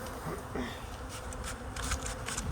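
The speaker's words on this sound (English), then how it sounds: "all the bees that are outside of this box are not part of this hive" Honeybees swarm outside a new hive box, filling the air with a steady, close buzzing drone that stays even throughout, with no voices over it.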